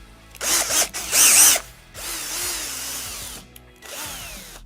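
Power drill driving self-tapping screws into thin wooden slats, several close, loud whirring bursts with short pauses between them and a sharper high-pitched spin in the middle, no talking.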